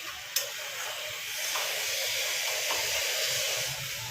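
Curry with four green chillies being sautéed in a pan: a steady close hiss and sizzle throughout, with a sharp clink of a utensil at the start and faint scraping beneath.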